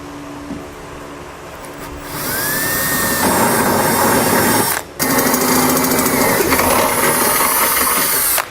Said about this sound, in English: I'm going to be using a 1/2 inch drill bit.